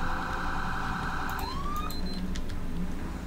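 Ambulance siren in the video game GTA V with a paramedic mod, loud and continuous, wailing steadily then switching pitch partway through, with short electronic chirps over a constant engine-like drone and no talk.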